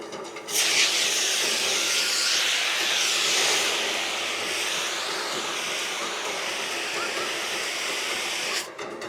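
A loud, steady hiss of an extinguishing spray putting out a fire at a volunteer fire brigade open-day demonstration in Mirano, starting abruptly, holding for about eight seconds, then cutting off.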